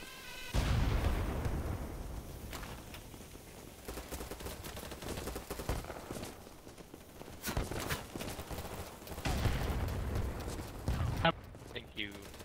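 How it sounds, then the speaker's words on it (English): Explosions and gunfire in BattleBit Remastered, heavy booming blasts at the start and again near the nine-second mark, amid scattered shots and battlefield clatter, moderately loud throughout. "toss a grenade maybe over there"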